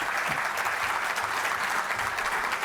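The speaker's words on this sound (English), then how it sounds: "let's give them a round of applause for that" An audience at a regional chamber of commerce spring breakfast claps steadily in a room, a dense, even wash of applause lasting a few seconds without voices.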